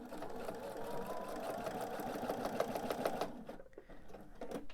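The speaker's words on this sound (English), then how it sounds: "I am going to backstitch at the beginning and end of this seam." A sewing machine stitches a seam joining a small purse's cover and lining, including a backstitch, with a fast, even mechanical whir that briefly slows and pauses before resuming close by.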